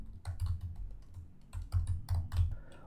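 Brisk bursts of typing on a computer keyboard while entering Java code, close and fairly quiet, with clusters of quick key clicks separated by short pauses.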